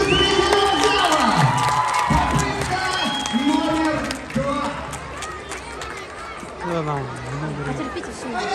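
A circus audience cheers and shouts, with children's voices, chatter and some clapping in a dense, lively crowd roar that keeps going across the whole stretch, with voices rising and falling on top.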